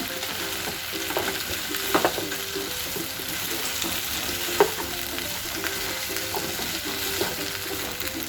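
Restaurant-style Chicken 65 fries with garlic, ginger and masala in a pan over medium flame, giving a continuous loud sizzle with occasional stirring clinks.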